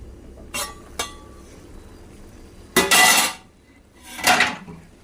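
Cabbage curry in a cooking pot is stirred with a utensil, giving short, close metallic clinks followed by two louder bursts of scraping and clattering against the pot, with no talking.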